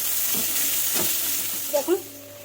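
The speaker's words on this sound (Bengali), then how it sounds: "চলো এটাও একটুখানি হালকা করে নাড়াচাড়া করে নেবো" Vegetables stirred in hot oil in a pan, a steady sizzle with a few soft scraping strokes of the spatula, close and alone.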